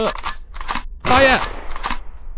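Gunfire in Superhook, a Spider-Man-style action game, bursting out as one loud broadband blast around mid-clip amid shorter sharp cracks, with someone talking over and between them.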